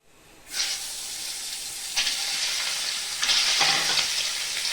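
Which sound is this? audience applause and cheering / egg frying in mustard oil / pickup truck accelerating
egg frying in mustard oil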